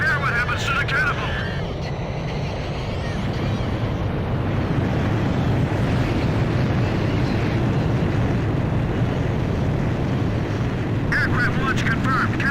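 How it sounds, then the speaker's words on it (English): A jet launching off an aircraft carrier catapult in the video game Ace Combat 5, a loud continuous roar and rush of engine and wind that holds steady throughout, with short electronic radio-style bursts at the start and end. "Aircraft launch confirmed."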